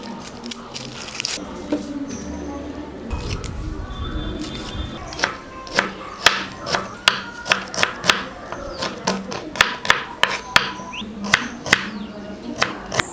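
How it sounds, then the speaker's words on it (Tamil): Peeled small shallots finely chopped with a knife on a board, a run of quick, crisp, evenly spaced chops growing more regular after some handling noises at the start. "சின்ன வெங்காயத்தை உரிச்சிட்டு பொடி பொடியாக கட் பண்ணி எடுத்து வச்சுக்கலாம்."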